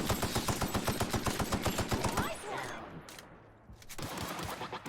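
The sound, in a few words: assault rifle firing in The Outer Worlds video game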